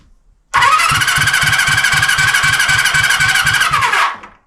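A Honda CB350F four-cylinder motorcycle engine cranks on the starter during a compression test, a loud, steady rhythmic churning with a whining squeal that runs about three and a half seconds before stopping.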